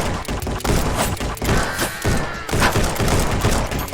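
Rapid gunfire in Red Dead Redemption 2 played in VR, a loud fusillade of overlapping shots and thuds with brief pauses, continuous through the stretch and without speech.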